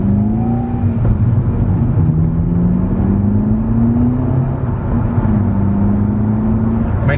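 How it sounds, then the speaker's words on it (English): A four-year-old, low-mileage Volkswagen Polo drives along, a steady engine drone and road noise from inside the car, with gentle shifts in engine pitch as it speeds up. "So let's go for our first drive."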